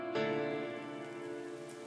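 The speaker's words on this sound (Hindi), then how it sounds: "खिड़की के बाहर बारिश हो रही थी" Steady rain falls outside a bedroom window at night, a constant broadband patter heard close and fairly loud, with no voices over it.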